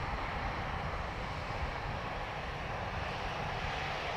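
An aircraft at Dublin Airport produces a steady, broad roar of jet engine noise, moderately distant and constant in level throughout, with no talk.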